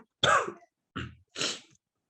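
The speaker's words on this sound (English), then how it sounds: "please mind me sneezing or coughing" A man with a bad throat coughs three times in a quiet room, a loud harsh burst followed by two shorter coughs spaced about a second apart, with nothing else audible.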